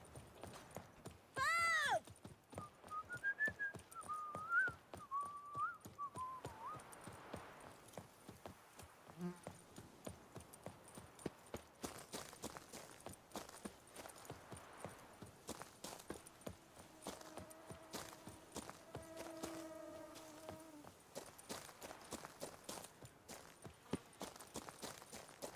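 Roach, the horse in The Witcher 3, pounds out rhythmic hoofbeats over the game's music and effects, the clip-clop steady throughout with occasional other sounds mixed in.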